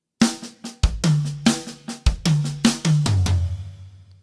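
A linear drum fill played on snare and toms, a fast run of sharp single strokes moving down into deeper tom hits with ringing decays, loud and close, with no voices.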